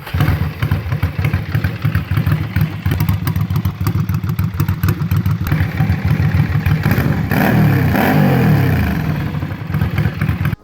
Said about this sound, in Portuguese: as Ducati V2 também emitem um som embaralhado e gutural ao acelerar